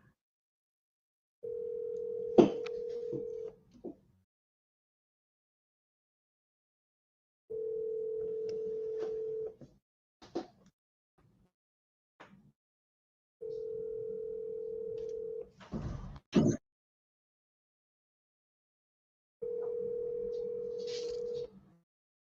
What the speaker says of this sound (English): All right, I'm gonna dial.